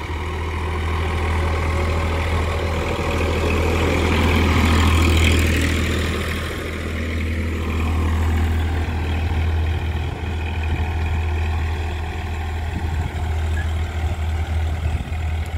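Massey Ferguson 245 DI tractor, a 2018 model, with its diesel engine running steadily and loud at close range, a low heavy drone with a slight swell midway, and no talk over it.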